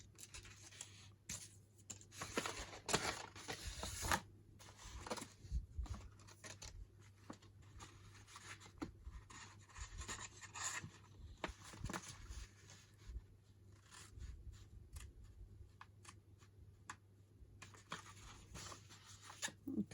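Scissors snip through paper being shaped into an envelope journal cover, a quiet, close run of short irregular cuts and rustles with brief pauses between them.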